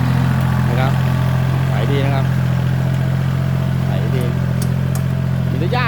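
A small walk-behind tractor engine running steadily in a wet rice field, a constant low droning hum with occasional faint clatter, while someone talks over it.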